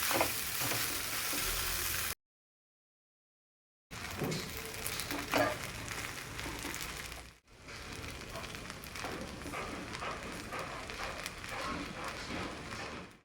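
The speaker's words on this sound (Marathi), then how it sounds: "एकसारखं साबुदाणा चांगला परतून घ्यायचा" Soaked sabudana (sago pearls) sautéing in a pan for khichdi, a steady broadband sizzle with soft stirring scrapes, close and fairly loud, broken by a roughly two-second silent gap partway through, with no talking.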